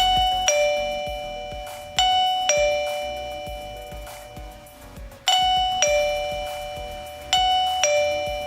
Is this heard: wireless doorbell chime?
yes